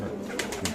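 Pigeons for sale at a pigeon market, a brief soft cooing with a few breathy pulses over a low murmur of background noise, close by.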